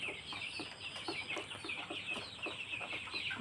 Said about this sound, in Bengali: এইখানে মোটামুটি 300 পিস ছাও আছে